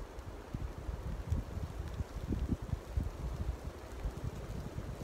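Soft, gusty wind rumbles and rushes faintly through a forest near the sea, an otherwise quiet outdoor space, with a low, uneven roar and no voices.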